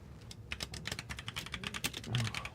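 Rapid, uneven clicking of keys on a computer keyboard, close and fairly quiet, with short bursts of keystrokes running steadily for a couple of seconds.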